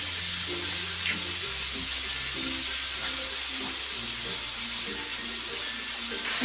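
Vegetables with salt sizzle steadily in a hot pan while being stirred for chicken fried rice, a continuous close hiss with faint scraping and clinking underneath.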